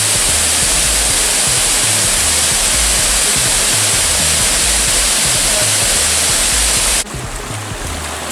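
Florence Falls in the Northern Territory, Australia, with only a modest flow of water coming over, heard from the bridge as a loud, continuous broadband rush that barely changes and drops slightly near the end.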